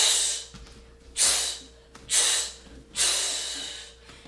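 Four forceful, hissing exhales follow a kickboxing combination of front kick, cross and left uppercut, coming in a steady rhythm about once a second, loud and close with no talking.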